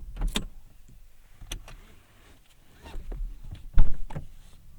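Door handle of a 1997 Toyota Century V12 being operated, a few distinct mechanical clicks and clunks with quiet gaps between, close and fairly loud, no talking.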